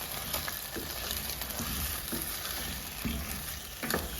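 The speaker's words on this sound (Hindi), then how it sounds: "बस इतनी देर में इसको फ्राई करूँगी कि लहसुन अदरक की जो है स्मेल खत्म हो जाए।" Ginger and garlic sizzle steadily in a hot pan while cooking degi aloo gosht, with soft, periodic stirring scrapes and no voices.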